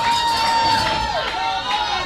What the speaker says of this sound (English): And look at the crowds going wild.